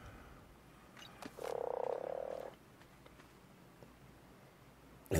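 Frog in ARK: Survival Evolved lets out one loud, buzzing croak about a second long over quiet ambient game noise, followed by faint clicks.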